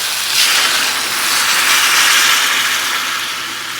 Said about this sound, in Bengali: এবার এর মধ্যে দিয়ে দিচ্ছি জল